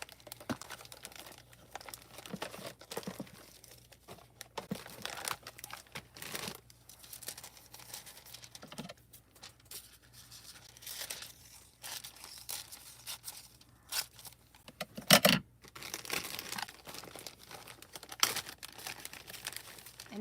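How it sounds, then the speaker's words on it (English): Hot foil sheets being cut and crinkled during hot foiling with new foil dies, giving soft intermittent crinkling and tearing rustles close by, with a sharper crackle burst near the middle. "I should just keep cutting foils"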